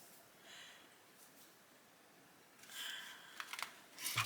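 Oracle cards from a talisman oracle deck are shuffled by hand, a faint, quiet rustle with soft riffling bursts and a few light clicks near the end, close by with no talk.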